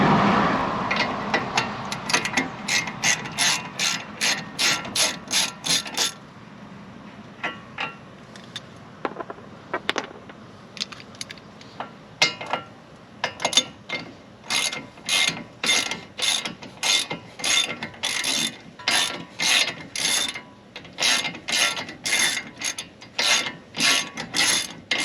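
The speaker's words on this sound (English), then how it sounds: "let's get the caliper and caliper bracket off and pull everything apart" A ratchet wrench loosens the brake caliper and caliper bracket on a Mazda Miata, loud close bursts of rapid clicking strokes repeating in quick rhythmic runs with short pauses between.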